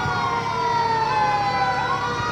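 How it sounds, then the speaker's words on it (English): A loud wailing siren from a passing emergency vehicle at a Memorial Day parade in Somerville sweeps up and down continuously over a low engine rumble, close by and with no voices. "As soon as the sirens go by,"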